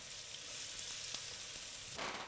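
Ackee and saltfish cooking in a pan with chopped tomatoes due shortly, a steady bright sizzle filling the clip with a few soft stirring scrapes and a louder burst near the end; no one speaks.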